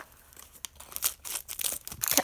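Plastic packaging around a baby doll's bottle is cut and pulled open with close, loud crinkling and tearing, coming in irregular bursts that get denser toward the end, with no talk.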